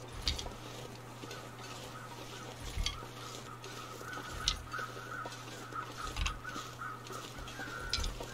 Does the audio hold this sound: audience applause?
no